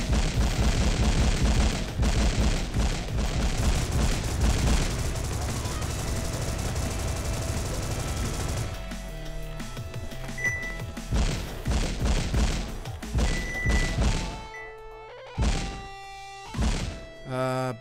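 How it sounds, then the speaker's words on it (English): Bombs hurled and bursting in Paranautical Activity: a loud barrage of booms and thuds packed tightly at first, then thinning into a few separate heavy blasts with quieter gaps between. "So I'm just gonna throw a bunch of bombs her way."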